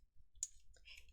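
A computer mouse gives a single faint click while working in Excel 365, followed by soft tapping in a very quiet room.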